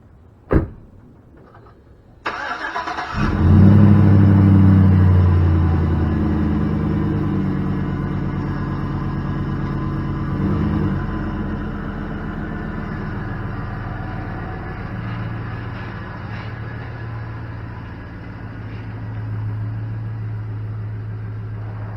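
A 2004 Chevy Avalanche truck cold starts: a brief crank, then the engine catches and roars up to a loud high idle before gradually settling into a steady, lower rumble.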